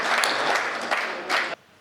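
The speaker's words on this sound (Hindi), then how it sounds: "एक बार जोरदार तालियां बजाएं श्री बलराम" Audience at a Hindi poetry gathering applauding poet Balram Shrivastav, a dense, loud burst of many hands clapping that swells and then cuts off abruptly.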